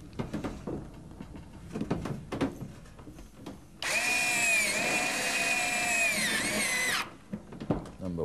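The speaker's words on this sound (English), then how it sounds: "now we're ready to fasten it. Here's your little Tex head screws" A power drill drives Tek head screws to fasten a retrofit panel, one loud, sustained whine of about three seconds with a slight pitch dip, set between quieter handling knocks.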